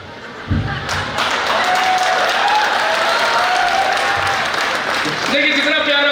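Audience at an Indian Hindi kavi sammelan poetry festival breaks into sustained applause that stays dense and loud for several seconds, with a few thuds near the start and a voice faintly under it toward the end.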